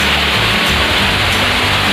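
The Rahtawu waterfall roars as a loud, steady wash of falling water, close and unbroken, with no voices.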